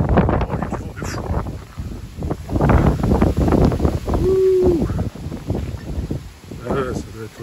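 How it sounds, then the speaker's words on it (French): Strong wind blows outdoors at a university campus in Chicoutimi, Canada, buffeting the microphone with a steady roar while someone talks over it throughout. "il y a du vent de fou"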